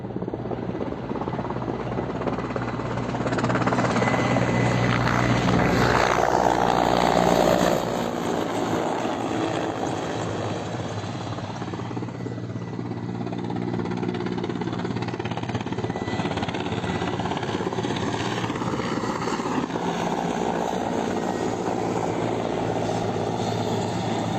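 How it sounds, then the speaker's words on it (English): Ukrainian Mi-8 military helicopters flying over the Donbas, a steady broadband rotor and engine drone that swells loudest around the middle and then holds at a constant level, with no voices. "Ukrainian Mi-8 helicopters reportedly in the Donbas."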